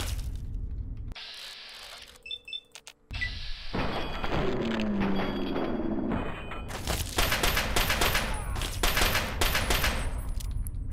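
Gunfire in the PC game Fallout 3, bursts of rapid shots with sharp cracks and thuds, some loud automatic volleys after a brief quiet gap, along with mechanical clicks, with no talking.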